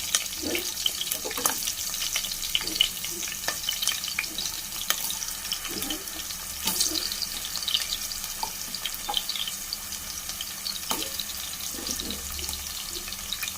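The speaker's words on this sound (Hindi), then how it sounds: "थोड़ा सा इन्हें हम फ्राई कर लेंगे मसालों के साथ में।" Vegetables with potato frying with spices in a pan for veg biryani, giving a continuous watery hiss with occasional soft clinks and stirs, close by, with no speech.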